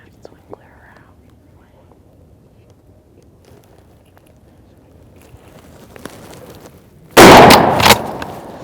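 A single loud, close shotgun blast at a turkey during a youth turkey hunt comes after a long stretch of quiet outdoor ambience and soft whispering, with a short rumbling decay.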